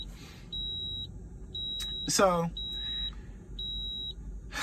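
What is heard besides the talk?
truck tire pressure monitor low-pressure alarm beeping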